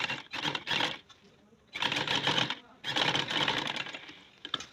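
A sewing machine stitching around the curved edge of a boat neck on a garment, running in several short bursts and longer runs with pauses between, fairly close and clear.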